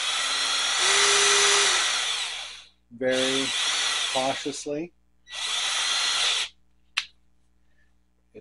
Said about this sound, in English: Let's carefully drill through the plastic.